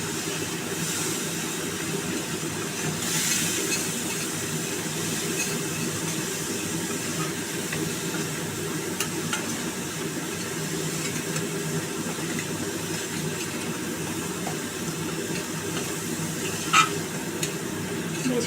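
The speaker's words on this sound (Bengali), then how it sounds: "এবার মশলাটাকে একটু কষিয়ে নেবো" Spice paste for pomfret curry frying in oil, a continuous close sizzle and hiss with a few stirring clicks and scrapes, steady and fairly loud without any talking.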